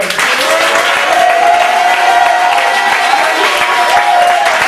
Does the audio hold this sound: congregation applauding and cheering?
yes